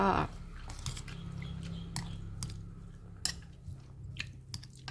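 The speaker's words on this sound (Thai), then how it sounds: "มากินกันด้วยค่ะ" Close, quiet chewing and squishing of food in the mouth, soft wet bites repeating steadily over a low background hum.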